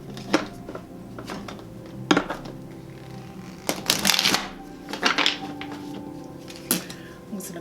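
Cards shuffle close up in several quick riffling bursts separated by soft handling noises, with a faint low hum underneath.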